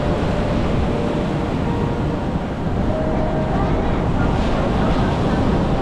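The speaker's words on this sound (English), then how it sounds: "look how strong these waves are coming in as well." Strong waves surge onto Da Nang beach in Vietnam in the evening, a constant loud roar of surf with heavy wind buffeting the microphone throughout.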